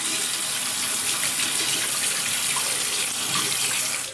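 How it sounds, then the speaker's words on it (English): Tap water runs steadily and loudly into a shaving bowl, a continuous close hiss of flow that holds for several seconds before easing off at the end. "let's just put some water in the bowl"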